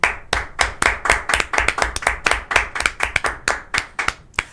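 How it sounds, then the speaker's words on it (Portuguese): Studio audience clapping steadily in a brisk, even rhythm of sharp hand claps at close range, with no voices over it. "vamos pedir palmas pro Felipe Moura Brasil"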